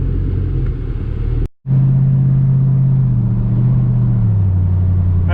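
A Marquis race car's engine rumbles loudly and steadily, cutting out for a split second before droning on with a slowly shifting pitch.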